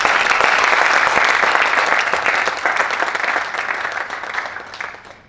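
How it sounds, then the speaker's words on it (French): An audience applauds and cheers in honor of Congolese women at a student presentation on rail transport of farm produce in the DRC, with loud, dense clapping that holds steady and then gradually thins and fades toward the end. "veuillez d'abord acclamer pour la femme congolaise"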